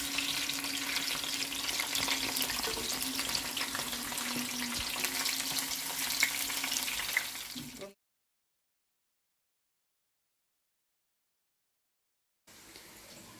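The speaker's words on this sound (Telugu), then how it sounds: "కాకరకాయ ముక్కలు వేగుతున్నాయండి." Bitter gourd pieces fry in a pan with a steady, close, dense sizzle for about eight seconds, then silence, and a faint return of sizzling at the very end.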